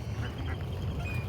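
Ducks quacking among park birds, a steady chatter of calls over outdoor low rumble and background noise, fairly loud throughout.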